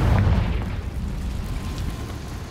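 A Confringo fire spell in the Hogwarts Legacy video game bursts with a loud, deep boom, then a rumbling blast that trails off into a steady low roar.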